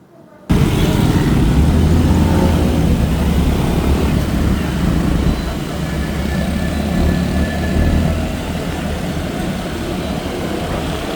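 Steady ride on a Yamaha Fazzio Hybrid 125 cc scooter, dominated by loud, continuous low rumble of wind and road noise with a constant engine drone, starting abruptly and holding level throughout.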